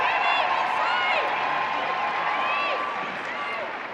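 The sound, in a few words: stadium crowd cheering and applauding at a football match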